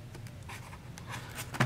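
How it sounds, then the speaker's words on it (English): A knife slicing through packing tape on a Cardfight Vanguard trial deck box, heard as short, close scratchy strokes and rubs scattered across the moment, ending in a slightly louder rip. "And got my knife here. Get this tape off."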